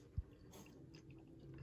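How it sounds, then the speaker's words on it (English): Someone chews survival food at close range, one sharp bite near the start followed by quiet, soft mastication sounds alone in a very hushed setting. "Someone sitting here chewing."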